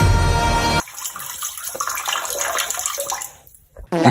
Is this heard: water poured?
yes